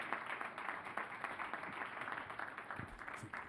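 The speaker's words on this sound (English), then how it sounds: "I think that really deserves an applause." Scattered applause rises at a housing authority board of commissioners meeting, a modest crowd clapping steadily at moderate distance for several seconds.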